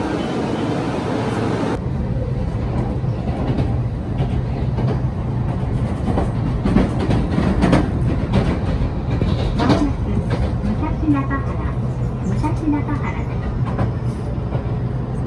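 A train in Tokyo rumbles along steadily with rhythmic wheel clatter and rattling carriages, loud and close, with people talking over the noise.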